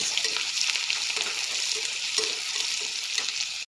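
Chopped onion, garlic and green chili frying in hot oil in a pan, a steady close crackling sizzle with faint stirring clicks throughout, no voices, cutting off abruptly at the end.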